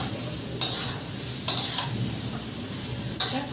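A utensil stirring and sautéing chicken in a hot pan, steady sizzling broken by three or four sharp scraping clatters against the metal, close and moderately loud with no talking.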